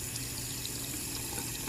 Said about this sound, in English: we can interact here with our faucet